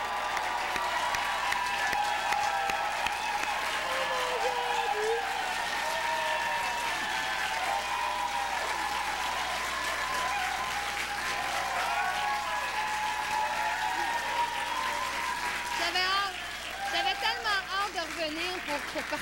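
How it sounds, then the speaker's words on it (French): Studio audience applauding on a live television talk show after a singer's performance, sustained clapping that continues for a long stretch with people talking over it, the clapping thinning and becoming more irregular near the end. "On peut l'applaudir très, très fort."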